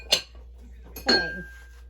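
A utensil clinks twice against a bowl while butter and white and brown sugar are mixed, two sharp, close metallic taps with a brief ringing tail after the second, set in near silence.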